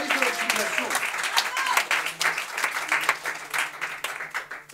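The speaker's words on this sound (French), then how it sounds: "On peut l'applaudir, le service de l'optimisation." An audience claps for the optimisation team, scattered claps forming a moderate applause while a voice keeps speaking over it.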